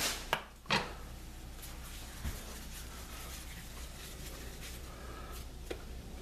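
A knife cuts dill and quinoa dough for rolls, giving two soft thuds on a board near the start and a couple of fainter taps later over quiet room noise.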